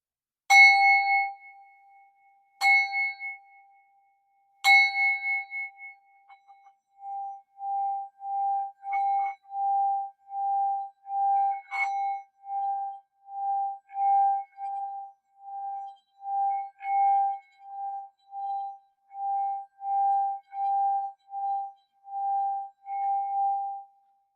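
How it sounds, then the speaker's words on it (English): A singing bowl is struck three times, each ring fading, then a steady pulsing hum swells as its rim is circled, sustained and clear. "today I'm gonna be using the sound bowl"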